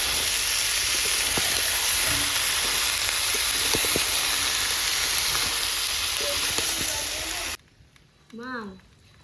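Young jackfruit frying with goat fat in a kadai sizzles loudly and steadily up close, with occasional clinks and people talking over it, until the sizzle cuts off abruptly and a lone voice continues.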